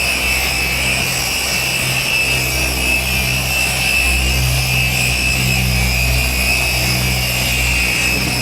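Polisher buffing car paint with quick detailer on the pad, a loud continuous motor whir with steady tonal hum and no pauses, heard alone and close.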